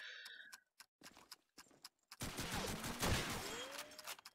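Gunfire in the game Call of Duty 2 on the Dawnville map during a LAN match, scattered single shots giving way to a dense burst of rapid fire, moderately distant, with no voices.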